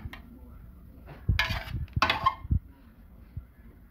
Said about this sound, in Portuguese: com o auxílio de uma colher, tira as partes que grudam na panela.